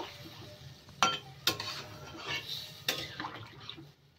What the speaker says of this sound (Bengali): জলটা দিয়ে একটুখানি নাড়িয়ে দেব।